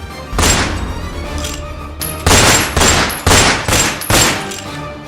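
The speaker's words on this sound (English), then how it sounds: "I shoot at the animal." A series of loud gunshots bang out in quick succession, several heavy blasts with short gaps between them and echoing tails.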